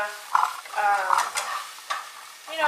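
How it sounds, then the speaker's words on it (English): Vegetables are sautéed in a pan: a spoon stirs and scrapes them through a steady sizzle, with several clinks against the metal. No one speaks. "just saute them around because we're going to put it in the oven later."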